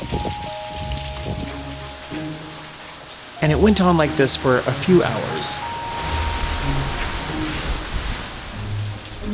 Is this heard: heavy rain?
yes